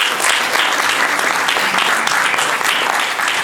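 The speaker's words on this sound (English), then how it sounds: "Please join me in giving him a big round of applause." Audience at a book launch applauding, a dense, loud and continuous wash of many hands clapping together, sustained evenly throughout without any voices on top.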